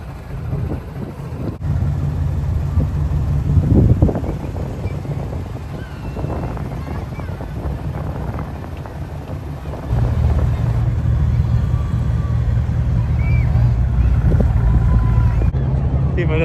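Sailboat motoring out of a busy Moroccan harbour, a steady low engine drone with wind buffeting the microphone, continuous and fairly loud throughout, with a voice briefly heard over it.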